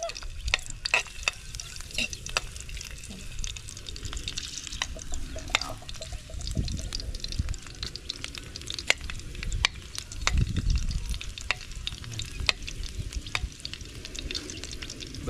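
Garlic sautés in a hot pan while it is stirred, sizzling steadily for the whole stretch. Scraping and stirring strokes come and go through it, and a louder, frothier burst of frying rises near the middle and again toward the end. No one speaks.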